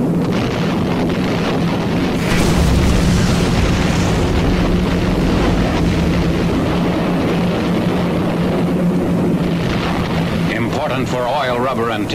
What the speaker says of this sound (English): A pre-invasion bombing softens up Jap installations and positions on the island.